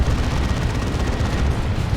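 Las cannon fire and explosions in a Dawn of War 2 battle make a steady, dense, booming rumble that stays loud and unbroken throughout, with no voices.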